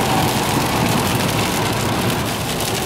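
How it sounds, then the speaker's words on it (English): Heavy rain pours steadily on a car driving along a road, a dense, unbroken hiss and patter with no voices. "It's still really, really rainy, really, really wet."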